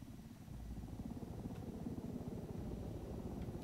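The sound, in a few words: helicopter in a video game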